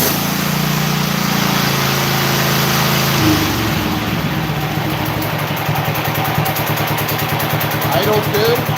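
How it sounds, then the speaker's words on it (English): A Scag 36-inch walk-behind mower engine runs close and loud throughout, with a heavier low rumble for the first three seconds before it settles into a steadier idle, while a person talks over it. "Still ain't starting on the first pull, but now she'll start."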